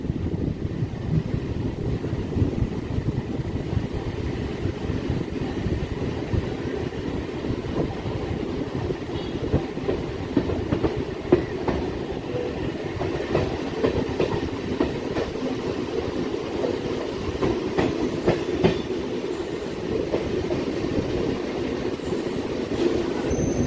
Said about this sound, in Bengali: ট্রেন আবার স্পিড নিয়েছে, কারণ আমরা বেলুড় মঠ স্টেশনের খুব কাছে চলে এসেছি